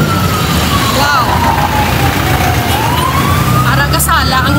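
Fire truck sirens wailing at a burning house in a neighborhood, rising and falling tones over a dense roar of crowd and engines, with people talking throughout.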